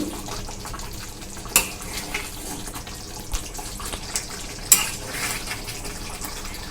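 Paneer masala in a thick, heavy gravy stirred in a pan, with rose water just mixed in; a few sharp metallic clinks of a spoon against the pan stand out over a steady low wash of kitchen noise.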